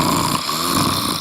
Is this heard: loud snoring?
yes